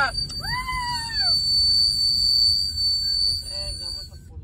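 Two or three sharp rising-and-falling whistles near the start, then a quick series of short chirpy whistles, over a steady rumbling crowd-like background.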